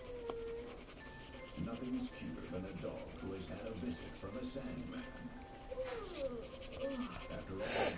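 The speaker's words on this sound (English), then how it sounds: "we're sort of like trying to shade this in" Pencil drawing and shading on paper while sketching an LPS cat, soft continuous scratchy strokes close to the microphone, running under a person talking.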